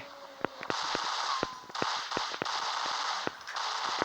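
Rapid gunfire from a commando-style combat shooting video game: sharp single and burst shots crack out irregularly over a steady bed of game noise, loud and close throughout.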